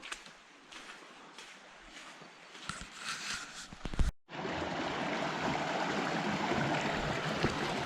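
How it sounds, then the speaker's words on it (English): Steady rushing water from a nearby canyon stream tumbling over small rapids and a little waterfall in Grand Staircase-Escalante, Utah, loud and continuous after a brief pause, with faint movement sounds earlier. "Looks like we found our first set of rapids here, little ones. Little waterfall."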